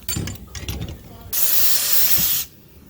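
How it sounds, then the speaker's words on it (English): Spray foam insulation hisses from a nozzle onto a roof panel of a 2014 Winnebago Sightseer RV in a steady, loud burst of about a second, preceded by softer handling noises. "Sprayed that one, spraying the foam."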